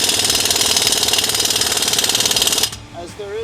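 A rapid, loud impact wrench tightens an exhaust clamp on a 2025+ Ford Maverick 2.0L during a 3-inch catback exhaust install, hammering steadily for a few seconds then stopping abruptly, leaving quiet shop noise.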